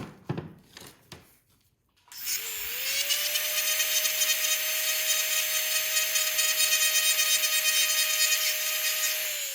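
A high-pitched dental-type handpiece grinds steadily after a brief pause, lightly shaving down the contact surface of a posterior dental bridge by hand; a sustained whine with a steady tone, close and fairly loud, with only faint noises before it starts.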